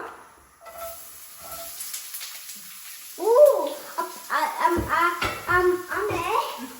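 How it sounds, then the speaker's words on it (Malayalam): Mustard seeds crackling and popping in hot oil in a Kerala home kitchen while sambar is cooked, a rapid scatter of small sizzling pops rising over a steady frying hiss, with voices talking over it. "കടുകെല്ലാം പൊപ്പ് ചെയ്യും"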